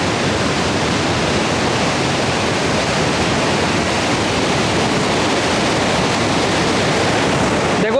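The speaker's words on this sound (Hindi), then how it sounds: "पानी का साउंड चेक करो कितना तेज आ रहा है।" Water rushes through the open gates of the Kota barrage in a loud, continuous, unbroken roar of torrential flow that fills the whole span.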